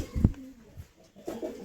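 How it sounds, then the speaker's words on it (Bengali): Pigeons coo at a home loft, a low throaty burst of cooing followed by softer calls and a second brief coo, fairly close and alone without talk. "সবগুলো কবুতর খাঁচার বাইরে রয়েছে।"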